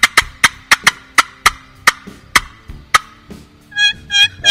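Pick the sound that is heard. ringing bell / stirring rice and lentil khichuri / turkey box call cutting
turkey box call cutting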